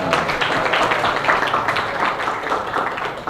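A classroom group claps together after a student group finishes a geography presentation, a dense, continuous patter of many hands at steady loudness throughout.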